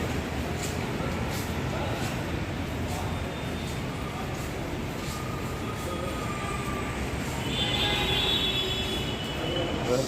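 Steady rumble of a Namma Metro train in motion in Bengaluru, a dense, continuous roar with faint rail squeal rising near the end; no clear talk.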